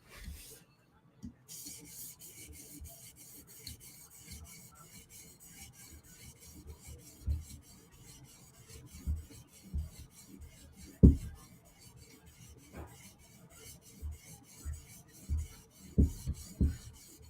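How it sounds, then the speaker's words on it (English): A Chris Reeve Umnumzaan knife is scrubbed across a sharpening stone in quiet, repeated rasping strokes, close and soft, with a few sharper scrapes and taps toward the end. "Just scrubbing away on a Umnumzaan"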